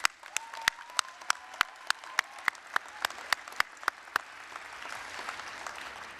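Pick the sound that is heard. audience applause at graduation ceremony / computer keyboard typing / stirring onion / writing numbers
audience applause at graduation ceremony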